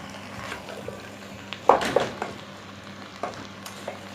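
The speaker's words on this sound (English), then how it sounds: "mixing it all up, and we're gonna let that simmer in its own liquid for a few minutes" An eggplant, chicken and celery stir-fry simmering in its own liquid, with a soft frying crackle under a few louder bursts of stirring and utensil clatter.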